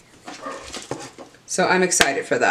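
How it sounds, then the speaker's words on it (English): A dog barks sharply once or twice while someone talks over it at close range. "that's why she's barking"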